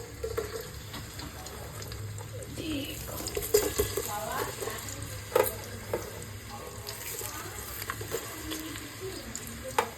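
Onions sizzle and fry in a pan for korma in a home kitchen while being stirred, a continuous close crackling hiss with scraping stir strokes and clatters, a voice speaking faintly underneath.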